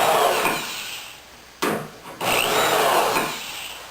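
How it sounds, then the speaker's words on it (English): A small door jamb drill bores a hole in a wooden boat rail, giving a steady, close grinding whir that dips and pauses briefly before resuming at full strength. "now I'm going to take my little door jamb drill."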